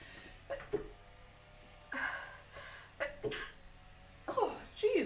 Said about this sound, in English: I have a sneeze now.